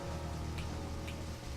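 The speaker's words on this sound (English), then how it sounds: "in the middle of the night, in the rain" Rain pours at night in the video game Deadly Premonition, a constant even hiss with a low hum beneath and no talk.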